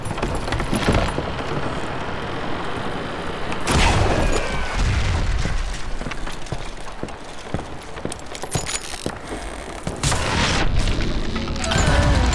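Dynamite blasts in the Western shooter Call of Juarez: Gunslinger, several heavy booming explosions with rumbling debris and crackle in between, loud and close, spread over a continuous roar.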